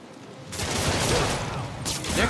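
Gunfire in Marvel's Spider-Man Remastered: a dense, continuous burst of shots that fills the whole moment, loud and close, with a short surge partway through.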